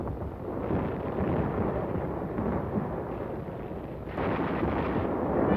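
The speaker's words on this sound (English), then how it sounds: "the bombardment was lifted at Wolme, but continued at Inchon" Naval bombardment during the Inchon landing in the Korean War, with shells hitting Wolmido and Inchon in archival film: a continuous heavy rumble of overlapping explosions that swells louder near the end, with no voices.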